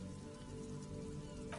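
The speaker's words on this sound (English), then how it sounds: "rain dripping off Eternite-covered roofs" Rain dripping off Eternite-covered roofs along an urban coastline in Disco Elysium, a soft steady patter beneath a low drone, quiet and continuous over a short stretch.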